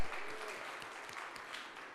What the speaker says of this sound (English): that applause was started by the team at Events DC that's sitting right here